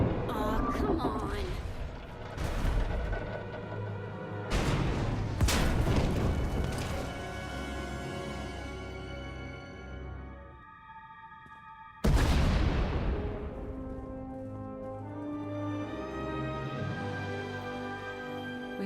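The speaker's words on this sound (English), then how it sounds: "We heard explosions. The tunnel collapsed." Explosions collapsing a tunnel in Star Wars: The Old Republic, deep booming blasts with crashing debris at several points, mixed with music and game sound.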